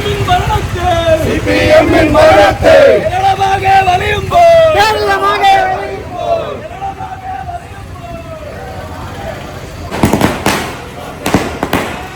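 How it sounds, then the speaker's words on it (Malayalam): Firecrackers bursting at a UDF victory celebration march in Vandiperiyar, loud cracks clustered toward the end, after a stretch of crowd babble, horn-like tones and passing traffic. "പടക്കം പൊട്ടിക്കുകയും ചെയ്തു"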